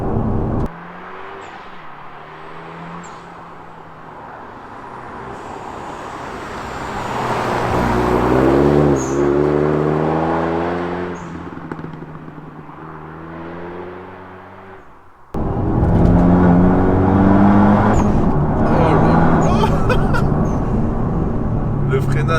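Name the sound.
car exhaust crackling and popping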